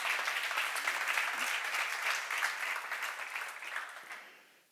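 Steady applause from a church seminar audience, broad and even, fading out toward the end with no voices over it.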